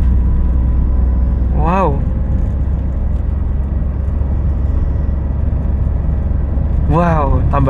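Small Daihatsu Rocky 1.2 with a manual gearbox accelerating hard in second gear on a hilly road, a steady loud engine drone filling the cabin while a man briefly exclaims and chimes ring out twice.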